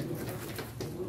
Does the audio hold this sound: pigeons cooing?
yes